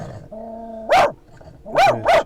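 A dog barks three times in loud bursts, one single bark and then a close pair, with a low hum and a faint tonal whine between barks inside a home.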